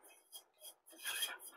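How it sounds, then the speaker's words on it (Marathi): Soybean chutney being mixed together by hand in a vessel, giving short scraping and clinking bursts of a utensil against the pot, moderately close, with brief pauses between strokes. "आता आपल्याला ह्या भांड्यामधलं संपूर्ण हे एकत्र आपल्याला करायचं आहे."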